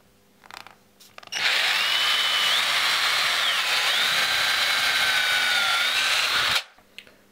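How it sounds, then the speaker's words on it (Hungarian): Power drill boring holes in wood for the iron rods of a rabbit hutch, one steady loud whining run of about five seconds with a sharp start and stop, no talking. "Most ezeknek a vaspálcáknak a helyét fogom kifúrni."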